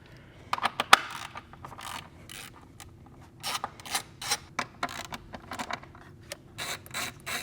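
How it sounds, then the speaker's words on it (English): Ratchet working E10 E-Torx bolts loose from the manifold brackets on a BMW B58 engine, giving close, dry bursts of clicking in uneven runs with short pauses between. "we're going to remove these 2 E10 E-Torques from the brackets here that hold the manifold on"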